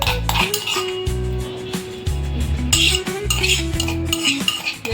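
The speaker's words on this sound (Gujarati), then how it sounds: "આ આદુ મરચાં લસણની પેસ્ટ છે એ નાખી દઈશું." A spoon clinks and scrapes against a metal pot while ginger-chili-garlic paste is stirred in for a sweet-and-sour white kadhi, with repeated close clatter, tapping and light scraping and no voices.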